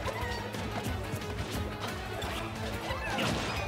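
A forward smash lands in Super Smash Bros. Ultimate during a tournament match between Olimar and Cloud, a sharp impact crash amid dense game effects, music and crowd noise.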